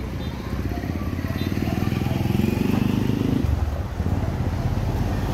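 Gas-engine motorcycle box truck hauling water jugs along a street in the Philippines, a close, steady motor drone that swells and holds as it passes, then drops back.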